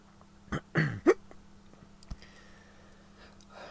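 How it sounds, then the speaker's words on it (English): A person hiccups three times in quick succession, close and fairly loud, then a faint click follows in an otherwise quiet room. "Excuse me a second, I've got hiccups."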